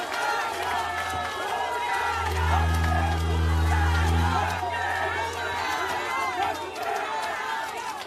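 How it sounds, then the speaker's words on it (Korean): A dense crowd at an outdoor campaign rally in a traditional market cheers and chants, with a rising swell of voices and a low sustained drone in the middle, amplified speech mixed in throughout. "큰 박수와 구호로 환영 부탁드립니다."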